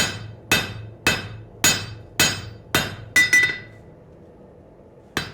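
Close, sharp hammer blows ring out on metal being flattened, roughly one every half second for seven strikes, with two quick hits near the end and a final lone tap after a pause.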